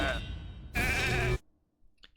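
Two loud sheep bleats from a polymorph spell in a video game, each a strained, wavering cry about half a second long, separated by a short pause and followed by near silence.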